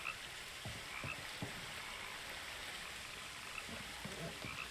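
Frog croaking in the What Remains of Edith Finch video game, a handful of short, irregular croaks set against a soft hissing outdoor ambience, fairly close but not loud.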